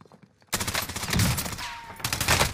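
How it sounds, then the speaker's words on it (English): Bursts of rapid automatic gunfire erupt in a Call of Duty: Warzone match, loud and dense, running almost without break after a quiet start. "We're shooting at him."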